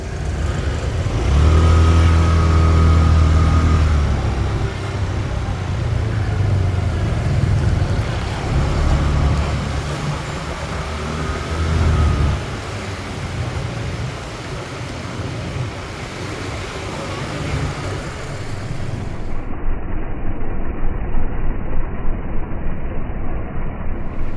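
A motorbike engine rumbles nearby in Thailand, rising and settling as it idles and revs, with road and wind noise around it and no talking.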